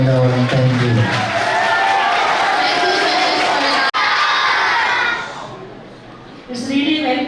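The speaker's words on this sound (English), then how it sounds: "So once again we clap for every one of them." A crowd of children at a school Independence Day inter-house competition cheers and claps loudly, the noise holding steady before fading, then picking up again briefly.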